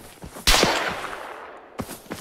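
Gunfire in a combat video game: a sharp loud shot with a short decaying tail, followed by a few fainter distant pops, then another close shot near the end.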